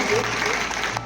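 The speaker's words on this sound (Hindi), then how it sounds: "जोरदार तालियों से स्वागत कीजिए।" Audience applause greeting a guest called to the stage at a village felicitation programme, a dense steady wash of clapping for about a second before it cuts off abruptly near the end.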